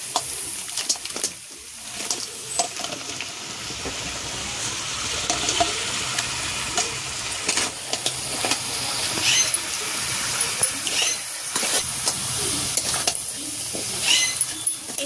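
Crab curry masala frying in oil with potato and tomato, a steady broadband sizzle and crackle running throughout with faint stirring clatter, close and moderately loud.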